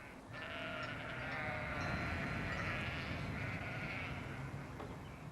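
Sheep bleat repeatedly in wet pastures surrounding a radar station, a wavering chorus of calls spread across a few seconds, fairly faint and distant over a broad rushing background.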